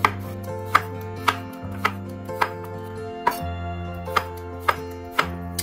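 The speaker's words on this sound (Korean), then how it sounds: "먼저 애호박을 반으로 썰어주세요" A knife chops Korean zucchini into halves on a cutting board for gochujang stew, about a dozen crisp, evenly spaced knocks close by, with steady background music underneath.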